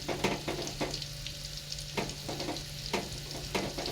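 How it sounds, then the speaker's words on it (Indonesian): Gelor, eggs and bean sprouts frying in oil in a pan, a steady close sizzle broken by repeated scrapes and stirring knocks from a utensil. "sekarang kita coba masak gelor toge telur teman-teman"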